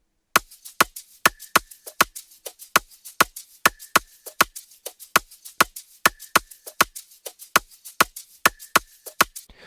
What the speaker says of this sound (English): I started with this Afrobeat drum loop